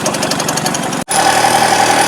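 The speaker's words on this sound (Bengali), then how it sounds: "তো আমরা এখন বর্তমানে গাড়ি ঘুরিয়ে নিচ্ছি।" A car engine idles with a steady, pulsing rumble as the vehicle turns around on a road, cutting briefly before a smoother, continuous hum returns, close and fairly loud.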